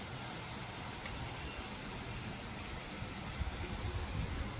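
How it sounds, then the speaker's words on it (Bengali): Steady rain falls on a rainy afternoon, a dense continuous hiss of drops striking surfaces outdoors, moderately quiet and unbroken throughout with no voices. "দেখো পুরো বৃষ্টি পড়ছে।"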